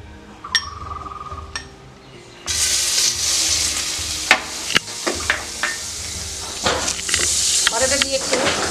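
Butter melts and sizzles in a kadai over low gas flame for carrot halwa, a steady close frying hiss that starts abruptly after a few soft clinks, with scattered sharp clicks of utensils against the pan.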